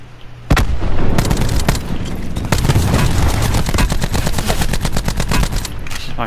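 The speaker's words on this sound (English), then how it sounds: "This is my first real gunfight here." After a short quiet start, sustained rapid gunfire breaks out in a Call of Duty Black Ops 4 Blackout battle royale match, loud bursts of automatic shots with occasional heavier booms.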